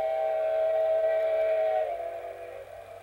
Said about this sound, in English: Departure of Western Pacific number 2, engine 77.